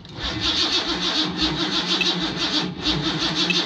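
Car engine with an MSD ignition cranking and firing on its first start, a loud, steady rhythmic churning that rises and pulses without catching into a smooth idle.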